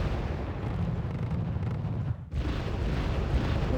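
Mortar explosions in the Wargame Red Dragon video game form a dense, continuous rumble of booms and bursts, with a brief lull before the barrage resumes.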